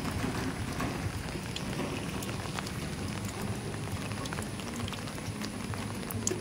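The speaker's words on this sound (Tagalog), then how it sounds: "Grabe pa rin ang ulan dito sa amin." Heavy rain pours down steadily in a rural Philippine province, a dense, constant hiss with scattered drip spatters and no voices.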